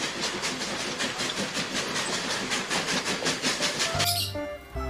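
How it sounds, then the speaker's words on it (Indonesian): A toy train locomotive runs with a steady, rhythmic clickety-clack and hiss, close and moderately loud, then stops abruptly near the end as a brief tonal sound takes over. "Widih, yang ini ada kereta lokomotif."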